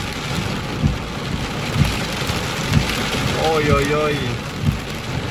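Heavy thunderstorm rain with large drops pelting steadily and loudly, with regular heavier thumps, and a man briefly calling out over the downpour.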